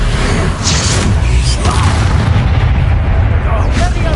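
Confringo and Bombarda spell explosions in the video game Hogwarts Legacy, loud, dense booming blasts rolling one into another, with a voice talking over the din.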